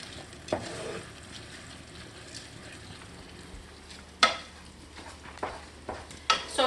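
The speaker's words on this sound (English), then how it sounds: "continue to stir and cook" Creamy mushroom risotto cooks in a pan while being stirred, giving a soft steady simmer with a few sharp clinks and scrapes of the spoon against the pan.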